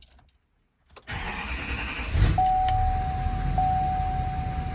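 A Chevrolet L5P Duramax diesel pickup cranks briefly after a click and silence, then fires and settles into a steady, rumbling idle, close and fairly loud, with a thin electronic tone running over it.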